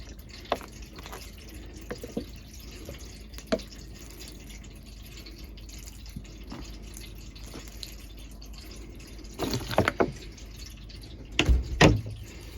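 Irregular drips and small trickles of water from a bottle patter close by onto indoor plants, with a brief louder splash of pouring near the end, no voices.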